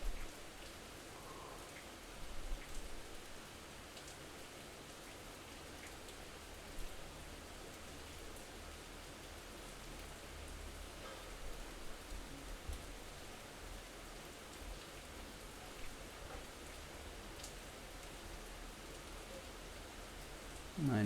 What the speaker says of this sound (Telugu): పొద్దున్న నుంచి వర్షం వర్షం వర్షం